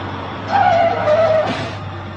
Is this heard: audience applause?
no